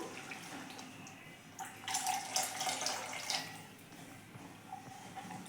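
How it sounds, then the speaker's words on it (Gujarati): Plain drinking water, about three-quarters of a cup, pours into a cooking pan in a steady splashing stream for a couple of seconds, rising then tapering off, close by over a low background hiss. "હવે આપણે સાદું પાણી નાખીશું"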